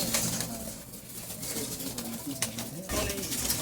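A blue Rampuri Matras pigeon gives low, rounded coos close by, mixed with rustling handling noise and some broadband clatter.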